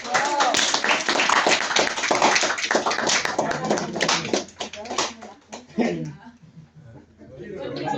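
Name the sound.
classroom applause for González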